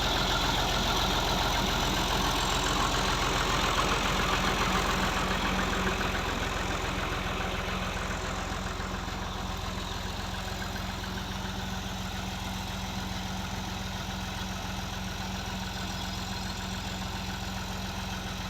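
A 2005 Fiat 480 tractor idles nearby, a steady low engine rumble with an even mechanical rhythm that holds for the whole stretch and eases off slightly partway through, with no talking over it.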